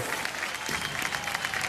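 Audience applause at a Bigg Boss grand finale, with steady dense clapping from a studio crowd filling the whole stretch at moderate volume and no clear voices on top.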